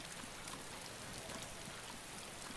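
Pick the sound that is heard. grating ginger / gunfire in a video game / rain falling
rain falling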